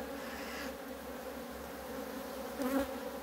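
Honeybees hum steadily at a hive in autumn, a dense continuous buzz from close by, with one bee passing louder near the end.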